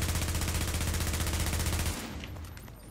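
Automatic gunfire crackles in the Xbox One shooter Tom Clancy's The Division, a dense, loud, rapid burst of machine-gun shots for about two seconds before cutting off into a fading echo.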